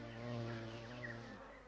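European honeybee buzzing close by in a steady drone among flowers in New Zealand's Fiordland, brief and alone with no voices.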